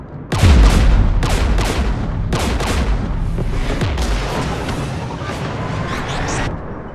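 Gunfire hits a ship in Mass Effect 3 in loud, rapid bursts of impacts and blasts with heavy rumbling underneath, repeating in clusters over several seconds before cutting off.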